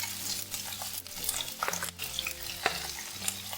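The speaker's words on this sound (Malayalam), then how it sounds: "കടുകെല്ലാം പൊട്ടി വന്നിട്ടുണ്ട്" Mustard seeds and sliced ginger frying in hot oil in a pan for chicken bonda, giving a steady close sizzle with scattered pops and stirring scrapes, with no voices.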